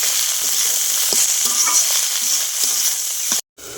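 Vegetables with chilli and salt sizzling steadily in a pan, with occasional stirring clicks, cut off briefly near the end.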